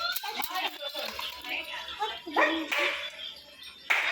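A dog barks a few times at moderate distance while people talk and a voice joins in.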